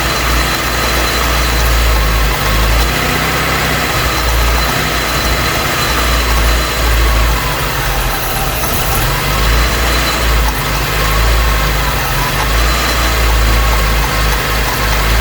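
A Vauxhall Cavalier MK2 engine idles steadily and loudly at close range after a carburettor rebuild, a constant low rumble with no talking.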